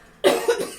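A single person coughs once or twice in quick succession, a sharp close burst followed by a weaker rasping tail, loud and alone.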